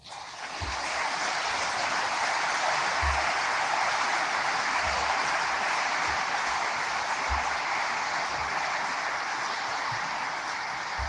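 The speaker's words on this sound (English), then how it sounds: "how about another hand of applause to Linda" Audience applause at a Navy change-of-office ceremony, a steady, even wash of clapping from a large crowd that holds at a constant level for the whole stretch, with faint low thumps beneath.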